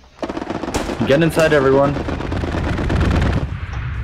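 Heavy automatic gunfire from a strafing aircraft in the World War II shooter Hell Let Loose, a loud sustained barrage of rapid bursts running under shouted squad talk.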